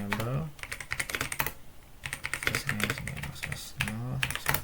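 Router configuration commands being typed on a computer keyboard, a close run of rapid, uneven key clicks in short bursts, with a voice speaking at moments between them.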